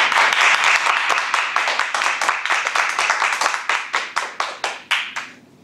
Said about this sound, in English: let's just a reminder here on clapping